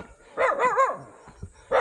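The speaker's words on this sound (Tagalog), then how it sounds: "Na aso." A guard dog on a mountain walking trail barks: a quick double bark, a pause, then another sharp bark, moderately near and clear of any talk.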